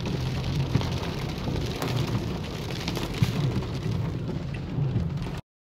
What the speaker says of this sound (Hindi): ओए होए होए इतनी बारिश